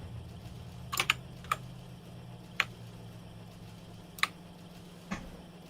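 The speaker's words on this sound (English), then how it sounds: "trying to set the slider so you hear my keyboard all the time." A computer keyboard is tapped with a handful of sparse, separate clicks scattered over several seconds, quiet and close, over a steady low hum while playing Factorio.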